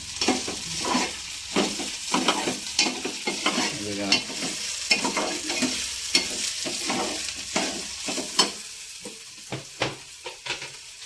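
Okra being sautéed in a pan for a home-style bhaji, with a continuous close sizzle and rhythmic scraping strokes of a spatula stirring the vegetables throughout.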